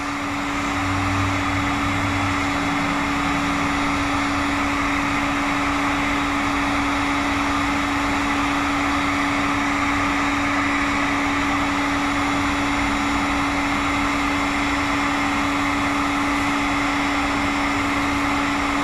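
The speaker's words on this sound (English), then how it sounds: "Heat shrink it down." A heat gun blows steadily while shrinking heat-shrink tubing over wiring in a damp spot on a 2015-19 vehicle, a close, constant whooshing hum with a fixed tonal whine that holds for nearly twenty seconds.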